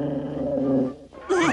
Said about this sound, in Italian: Un cane feroce!